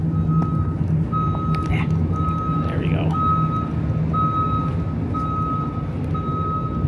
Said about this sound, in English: It's a delivery truck beeping.